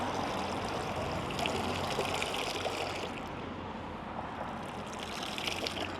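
A wash mitt soaked in rinseless wash solution is squeezed out, giving a steady, soft trickle and patter of liquid that runs throughout.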